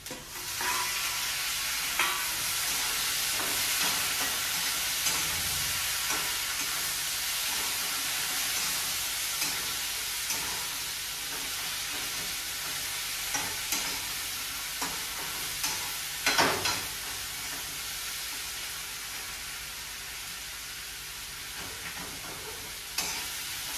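Tomatoes dropped into a pan of frying mutton set off a loud, continuous sizzle with steamy hiss, scattered clinks and stirring scrapes throughout, no voices.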